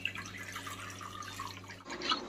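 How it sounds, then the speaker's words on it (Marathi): Cold water poured over pieces of ash gourd while making petha sweet, a continuous close splashing and trickling for about two seconds that shifts in tone near the end. "आपण आता ह्या पीसेसवरती थंड पाणी ओतूया."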